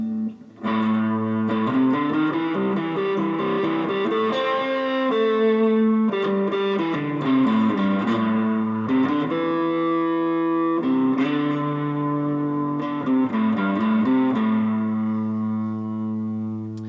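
A Strat-style electric guitar on pickup position 4 plays a steady run of sustained, ringing chords and notes, with bright harmonics and a touch of reverb, alone and without talking throughout.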